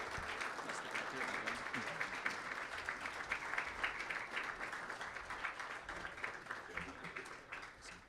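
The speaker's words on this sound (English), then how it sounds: "Round of applause as Shayna and Chaim come up stage." Sustained applause from an audience at a synagogue anniversary dinner fills the room, a dense steady patter of many hands clapping that fades slightly toward the end.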